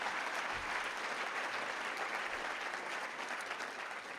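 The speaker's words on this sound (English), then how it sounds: "maybe we could give them all a round of applause" A festival audience claps for the speakers, steady dense applause throughout at an even, moderately loud level with no voices on top.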